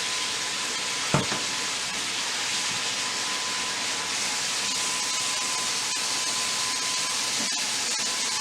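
A pork chop sears in a frying pan, giving a loud, constant sizzling hiss broken by a single brief clunk early on as a piece goes into the pan, with no speech.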